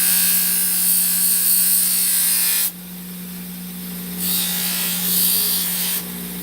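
A knife being lightly sharpened on a power sander, a loud steady motor whine and grinding hiss that drops away abruptly, then returns in shorter passes of blade contact.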